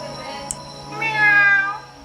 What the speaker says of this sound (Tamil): இது வந்து பூனை சவுண்டு. இது வந்து பூனை, கேட்.